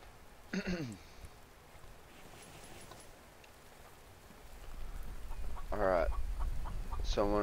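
A chicken in the video game The Infected clucks in short, faint bursts, then a longer run of louder clucking near the end, set against a low ambient game background.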